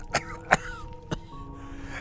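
A man falls into a deep, painful, rattling coughing fit: three sharp, harsh cough bursts spaced unevenly over two seconds, close and fairly loud, with rough breathy noise between them.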